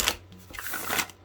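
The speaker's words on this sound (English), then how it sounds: "let me pull it out here and shuffle" A tarot card deck being shuffled by hand, a short close riffle of papery flutters and soft slaps lasting about a second, with no talking.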